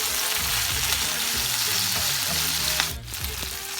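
Chicken fries in a pan while being stirred, giving a dense, continuous sizzle close up, with soft music playing underneath.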